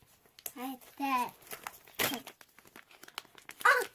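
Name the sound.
opening a crinkly resealable plastic baggie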